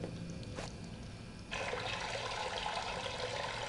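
A toilet flushed in the video game Fahrenheit, a brief click followed by a sudden steady gush of rushing water that continues at a quiet, even level.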